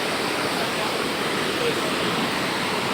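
Tuasan Falls on Camiguin island, a powerful waterfall producing a loud, continuous broadband roar of crashing water, heard close and steady throughout without breaks.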